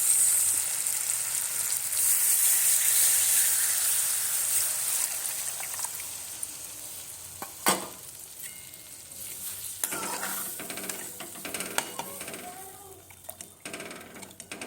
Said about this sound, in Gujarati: હવે આમાં એડ કરીશું આપણે છાશ